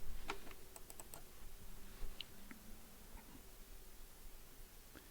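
Computer mouse clicks at a desktop, several sharp little ticks near the start, with a quick paired click, then faint scattered taps over low background hiss.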